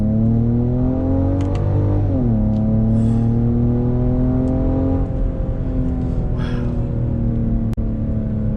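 A Genesis GV70 SUV pulls hard from inside the cabin, its engine note climbing steadily and then dropping sharply at a quick gear change before rising again, loud and continuous with no talk.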